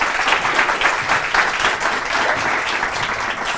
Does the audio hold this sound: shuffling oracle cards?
no